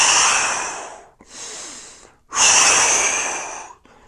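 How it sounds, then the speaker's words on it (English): Heavy breathing during a resistance band lunge and curl exercise: a long forceful exhale, a shorter softer breath, then another strong extended exhale, close and loud with no talking. "Inhale."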